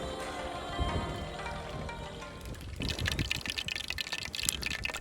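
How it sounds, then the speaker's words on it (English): Oil bubbling and crackling in a pot over a small campfire in a forest on an island, a loud frying hiss swelling in the second half with bursts of spatter. "the oil boiled, and now I throw the pieces of fish in there"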